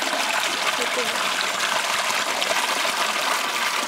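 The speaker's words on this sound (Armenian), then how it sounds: "Ուրեմն ջրառից հետո խնդրում եմ նայեք ինչ է մնացել գետում։" The Marts river rushes below a small hydropower plant's water intake in Armenia, a loud steady broadband gush with no breaks, close and filling the whole scene.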